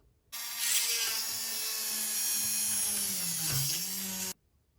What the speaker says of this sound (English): I'm going to put that in there and drill a hole